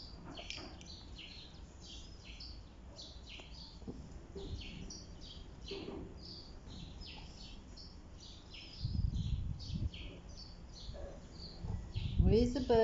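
Small birds chirp and tweet repeatedly at a distance, faint and scattered over low background rumble, with some nearby noise toward the end.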